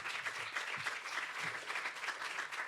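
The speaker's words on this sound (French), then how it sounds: "bravo à tous les deux, on peut les applaudir s'il vous plaît" An audience on a French industry-and-innovation program applauds two guests, steady, even clapping at moderate volume throughout, with a couple of faint low thumps underneath.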